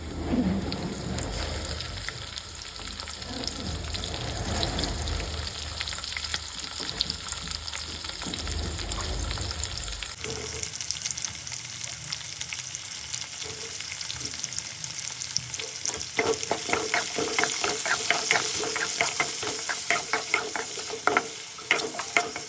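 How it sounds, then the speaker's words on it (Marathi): Onions fry in a pan with a steady, close sizzle and crackle. The sizzle continues without talk and gets a little busier and more popping toward the end. "कांदो आता बऱ्यापैकी फ्राय झाला."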